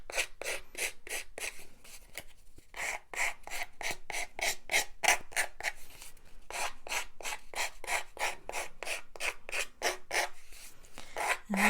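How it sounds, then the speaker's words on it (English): Sandpaper rubs along the edge of a chipboard gift tag in quick, even back-and-forth strokes, a close, soft rasping rhythm with a brief pause midway and no talking. "we're getting this sanded edge so that it has a nicer fit around the chipboard, and it distresses it a little bit."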